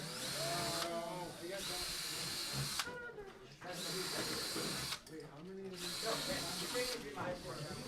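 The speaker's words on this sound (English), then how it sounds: "Are they done with the drill over there?" A power drill whirs in bursts that rise and fall in pitch, with short pauses between runs and people talking nearby.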